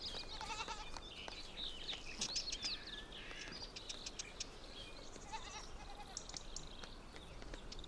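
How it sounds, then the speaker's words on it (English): Spanish ibex during the rut make faint bleating calls in mountain terrain, heard at a distance among chirping birds over a low, steady background hiss. "The Spanish ibex are in the rut."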